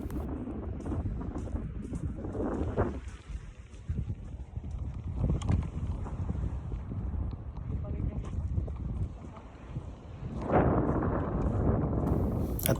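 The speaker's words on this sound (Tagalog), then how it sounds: "sobrang lamig talaga at sobrang lakas ng hangin guys" Strong, cold wind blowing outdoors in Canada, a steady broadband rush buffeting the microphone throughout, with gusts swelling near the end and people talking faintly underneath.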